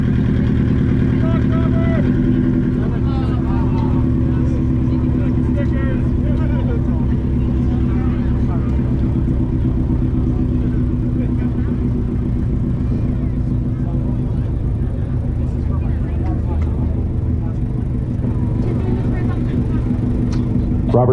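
A 2005 Subaru at the Wicked Big Meet 2022 exhaust competition holds a loud, close, throbbing idle with small rev swells throughout, under continuous talk from people nearby.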